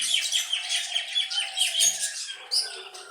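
Several parrots chirp and tweet in quick overlapping bursts, bright and fairly close, a busy chatter that runs on without pause and with no voices.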